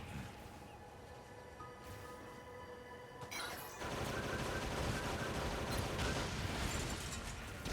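Video game gunshots aimed at a moose: rapid, dense automatic fire that starts partway in and keeps going loudly to the end, drowning out quieter sounds before it.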